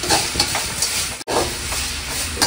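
Tomatoes sautéing in a pan for fish curry (madavai meen kuzhambu) give a steady, close sizzle with soft stirring scrapes that surge now and then, briefly cut by a split-second gap.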